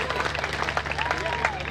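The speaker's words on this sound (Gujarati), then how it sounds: "એક ફેર લાલુભાઈ માલવિયાને જોરદાર તાળી જેવો દાવ" Clapping from the audience at a Gujarati folk dayro, a short dense burst of many hands applauding together, heard under a voice speaking over the crowd.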